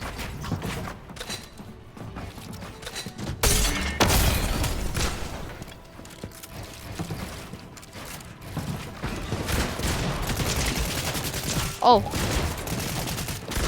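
Fortnite revolver gunfire, several loud separate shots spaced apart among reload clicks and game noise, with a brief voice exclamation.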